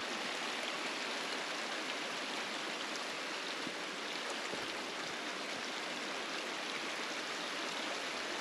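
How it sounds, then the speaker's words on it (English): A river stream in the Colorado backcountry, steady broadband rushing water flowing continuously and evenly, fairly faint and with no voices. "Where can I cross this river?"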